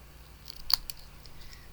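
A single sharp scissor snip cuts through cardstock, close and crisp, with a faint second click just after against a quiet background.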